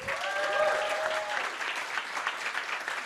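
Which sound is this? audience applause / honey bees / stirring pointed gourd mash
audience applause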